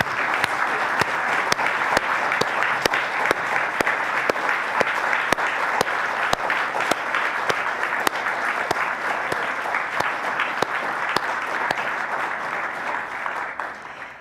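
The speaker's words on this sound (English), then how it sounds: "I'd like to have our students stand and give them a final round of applause." A large audience at a science competition gives students a steady, sustained round of applause, dense clapping continuing for the whole stretch before tapering at the end.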